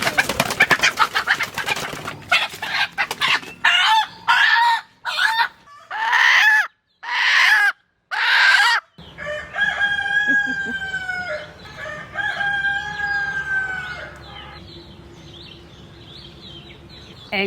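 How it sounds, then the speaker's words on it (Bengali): Sonali chickens cluck and a rooster crows in a run of loud, close calls, broken by short pauses, followed by softer clucking and chirping over a low background hum. "এই যে সোনালি মুরগি আজ আমরা ঈশ্বর দিয়ে রান্না করব।"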